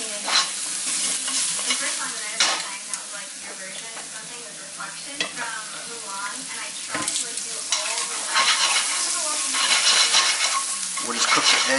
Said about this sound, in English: still with our pan being very hot. We're going to throw in some garlic, throw in some ginger.